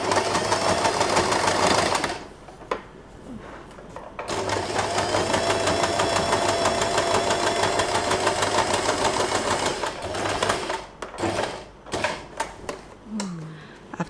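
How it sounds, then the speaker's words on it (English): A sewing machine stitches a jacquard hair bow, giving a loud steady mechanical whirr that stops for about two seconds and then resumes for a long run before sputtering out. There is no talking. "we are going to sew this for the last time"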